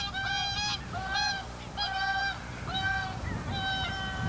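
A flock of white-fronted geese honking repeatedly in overlapping bursts over fallow rice fields near Lakes Izunuma and Uchinuma, Japan, fairly loud and close, with a steady low rumble of background noise.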